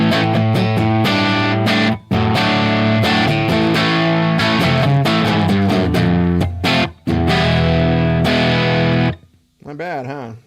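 An electric guitar plays chords and notes through a tube amp with the echo and reverb turned off, loud and steady with a few short gaps. A voice comes in near the end.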